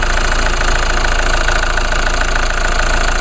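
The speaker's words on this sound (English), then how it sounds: "This diesel engine is actually designed by GM" A GM-designed diesel engine rated at 151 horsepower runs steadily at idle, a loud, even, knocking rumble with constant vibration and no voices.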